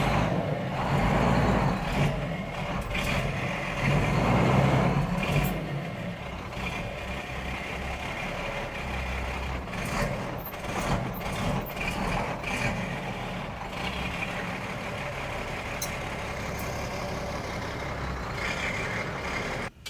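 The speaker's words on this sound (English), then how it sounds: "The clutch, this thing's going in 2 gears at one time." A 1995 Freightliner FLD truck with clutch trouble, grinding as it is forced into two gears at once: a steady, loud mechanical rumble and grind with rattling clanks, heavier in the first few seconds, then continuing evenly without speech.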